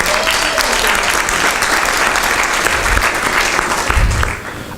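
Sustained audience applause fills a gala dinner auction hall, dense steady clapping from a large crowd that holds loud throughout before tapering slightly at the end, with no talk over it.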